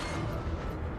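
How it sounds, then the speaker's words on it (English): A missile striking in a World of Warships naval battle during a Halloween event, heard as a loud, dense rumbling blast that fills the whole second without a clear start or fade. "Got a missile hit, I guess."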